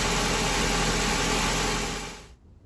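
A Ford Ka runs after a spark plug clean and re-gap, a loud close steady engine drone with a faint whine that cuts out abruptly near the end.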